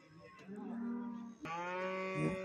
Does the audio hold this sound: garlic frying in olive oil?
no